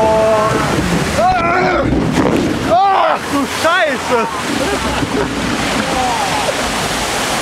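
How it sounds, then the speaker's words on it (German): Loud, continuous rushing and splashing of water as a log flume ride boat at Fårup Sommerland crashes through, with wind noise and excited shouting voices over it. "Wieso knallen die Boote hier so rein?"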